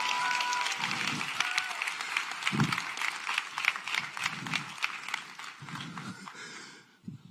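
Audience applause during a church sermon, a continuous wash of many hands clapping at moderate distance, with scattered louder claps and brief low voices underneath, fading out at the end.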